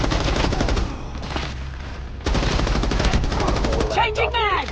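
Rapid, loud shotgun blasts in a tactical shooter video game, fired in quick bursts close up, with game sounds and players talking over them.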